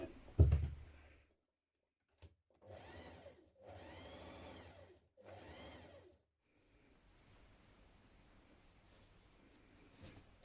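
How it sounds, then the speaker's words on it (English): A sewing machine stitches a dress pocket in three distinct runs of whirring, rhythmic stitching separated by short pauses, followed by quieter handling noise. "We're going to stitch in 1 centimetre down to the next notch and along."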